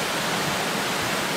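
Waterfall in Iceland, a constant broad rushing roar of falling water with no other sounds.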